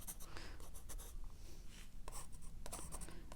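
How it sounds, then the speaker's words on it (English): A watercolor pencil scratches across paper in short, quick strokes and scribbles, close and soft, with brief pauses between bursts of shading. "this is watercolor pencil, but even color pencil, you could do this. Just kind of go around your areas too."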